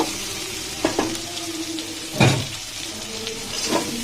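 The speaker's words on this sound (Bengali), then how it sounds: "ঝালের জন্য দিয়ে দিলাম কাঁচা লঙ্কা, দিয়ে সুন্দর করে নেড়ে চেড়ে নিব" Okra and green chillies frying in a pan with potato, a steady sizzle broken by a few scraping stirs of a spatula, one heavier scrape midway, close and moderately loud.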